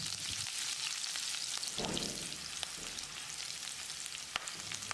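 Curry leaves fry in hot oil in a pan with a steady, close sizzle, and a short stirring rustle rises midway. No voices.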